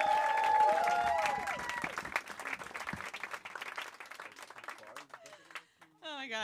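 Audience applause and cheering for a stand-up comedian at a comedy showcase, a burst of clapping that swells and then thins out while the host talks over it, with the comic's voice coming in at the end.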